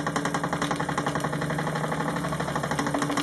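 A Wilesco D16 toy steam engine runs at higher speed, giving a steady, rapid mechanical chuffing and whirring hum that stays continuous and close throughout, with no voices.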